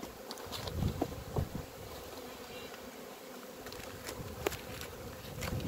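Honeybees buzz on a hive frame holding honey, a steady close humming swarm with occasional louder passes of individual bees and faint handling knocks.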